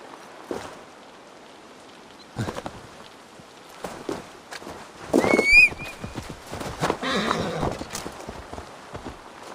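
Horse arriving in the video game Assassin's Creed Valhalla, a series of soft hoofbeat clops at moderate distance, building in the middle with a short whinny-like cry and scattered clatter, fairly quiet overall.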